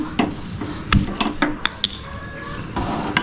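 A frying pan being handled on a stove while preparing sweet potato kheer, with a few sharp metallic clinks and knocks over soft kitchen background noise.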